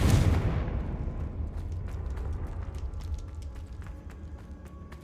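A Confringo fire spell exploding in the Hogwarts Legacy video game: one loud, booming blast at the very start, followed by a long, rumbling decay with faint crackling debris and no voices.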